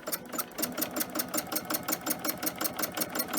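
A sewing machine stitches free motion quilting on a fabric bag, its needle hammering in a fast, steady rhythm at close range without pause.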